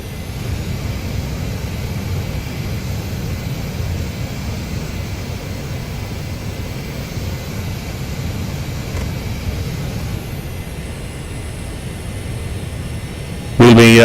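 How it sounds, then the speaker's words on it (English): Saab Viggen jet taxiing slowly down a runway in the DCS flight simulator, a steady droning engine roar with a high whine above it, continuous and fairly loud until a brief burst at the end. "I'm slow taxiing down the runway here."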